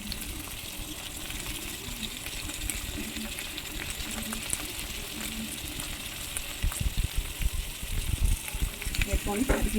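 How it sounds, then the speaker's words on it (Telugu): Tomato and cucumber frying with onion, chilli and ginger-garlic paste in a pan, a steady sizzle and hiss with stirring, more clattering pan and spoon knocks toward the end. "దోసకాయ టమాటాను పచ్చివాసన పోయేదాకా వేయించుకోవాలి."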